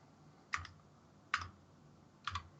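Three separate short bursts of keyboard typing, each a quick cluster of clicks spaced about a second apart, close and clear against quiet background with no talk.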